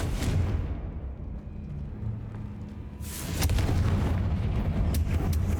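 Fire-spell blasts go off in the Hogwarts Legacy video game as loud booming explosions, with a heavy rumbling burst at the start and another powerful roaring blast partway through, close and dense with no talking.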